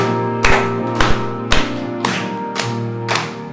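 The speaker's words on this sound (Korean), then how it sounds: "우리 찬양할 때 우리 박수 치면서 우리 찬양하도록 하겠습니다." A church congregation at a founding thanksgiving service clapping in a steady beat while singing hymn 516, six evenly spaced claps roughly half a second apart over sustained organ-like chords and voices.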